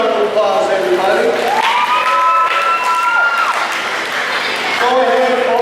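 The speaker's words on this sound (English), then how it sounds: "Give a big round of applause, everybody." An audience at a county fair main show claps and cheers loudly, with a few whoops and shouts rising over the steady applause.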